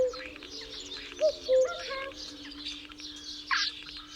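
A starling imitates a cuckoo amid a jumble of varied chirps, short tonal notes and a brief harsher burst near the end, faint and alone over a low steady hum.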